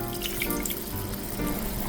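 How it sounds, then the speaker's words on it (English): Tap water runs in a steady, close stream as a touch of water is added to a sukiyaki pan with sugar stirred in, a continuous trickle with faint music beneath. "Add in a touch of water,"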